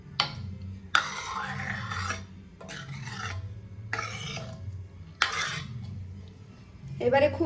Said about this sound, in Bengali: এবারে খুব ভালো করে মিক্স করে নিতে হবে একসাথে।